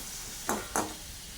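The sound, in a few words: onion, tomato and garlic cooking in a pan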